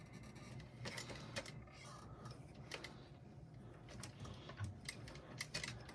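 A sewing machine stitches through carpet fabric in a steady, faint mechanical run with small rattles and clicks throughout.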